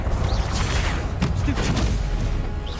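Confringo blast spells fire off in a Hogwarts video game, a run of loud crackling bursts and booms over a constant busy game soundscape, with some spoken voice mixed in.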